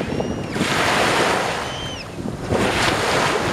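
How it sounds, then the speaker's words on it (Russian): Sea waves wash and surge onto the beach by the walls of the Peter and Paul Fortress in August with a steady roar, buffeted by wind noise, while a gull cries faintly overhead. "Есть и волна."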